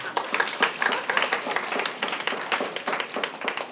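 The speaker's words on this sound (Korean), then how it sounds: "우리 박수 한번 해주시죠" A church congregation claps during a Korean sermon, a fairly quick, steady stream of hand claps from many people, loud and close, with no talk over it.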